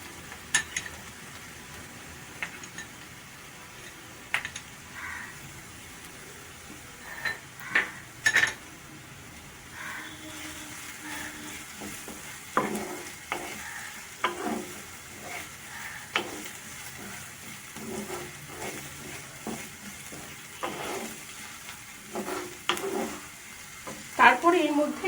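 Chopped ginger and garlic sizzle in a pan for Bengali keema, a low steady fry under repeated spatula scrapes and clinks, with the stirring growing louder and busier toward the end.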